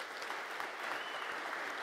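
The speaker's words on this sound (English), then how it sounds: "it's a huge round of applause to the community for that" A crowd at the Umbraco Codegarden 2022 keynote gives steady, dense applause, heard at a moderate, somewhat distant level with no talk over it.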